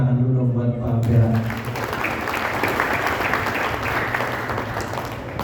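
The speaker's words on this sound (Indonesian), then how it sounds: "Jadi mungkin saya ngajak teman-teman tepuk tangan dulu dong buat Pak Ampera." A voice trails off and applause breaks out from a crowd, a dense, steady clatter of clapping that keeps going to the end.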